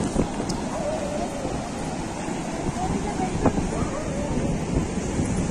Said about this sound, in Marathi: आता आपण समुद्रावरती पोहोचलेलो आहे.